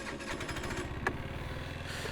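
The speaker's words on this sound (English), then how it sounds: "If we turn the scooter on, we see nothing, but if we start the engine," Daytona Revo 50 scooter engine running at idle, a steady low pulsing putter with a short sharp click partway through, moderately close.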